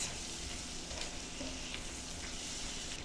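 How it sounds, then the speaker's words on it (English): Slivered almonds toasting in melted butter in a pan, a continuous close sizzle with light stirring scrapes running throughout. "Okay, so my almonds are getting toasted."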